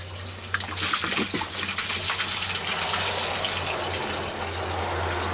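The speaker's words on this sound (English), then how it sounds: "This is actually where Jayla and I get all of our water from." Steady rushing water pours and splashes continuously from a spring, a close, constant gush with a low hum underneath and no voices.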